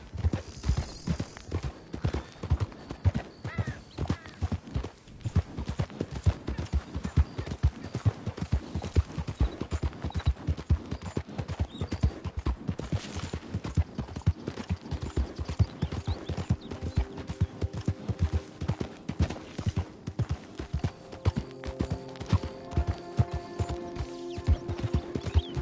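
Horse hooves clip-clop steadily and loudly in Red Dead Redemption 2, a continuous rhythmic trot running the whole length with some mechanical clicking and a brief whinny, while faint game music enters toward the end.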